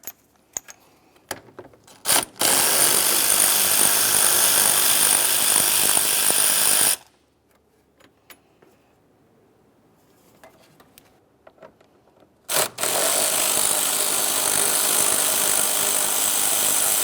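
A power tool backs out the 10mm bolts on the fan shroud of a 2001-2005 Ford Explorer Sport Trac, two loud sustained bursts of whirring separated by a quiet gap with small metallic clicks and clinks.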